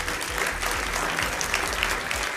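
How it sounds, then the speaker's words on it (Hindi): Studio audience at a televised Hindi political debate show bursts into steady, dense applause, many hands clapping continuously and fairly loud throughout with no pause. "ताली बजाइए भाई इनके लिए।"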